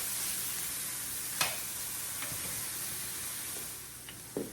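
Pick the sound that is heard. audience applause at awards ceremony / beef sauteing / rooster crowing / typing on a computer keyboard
beef sauteing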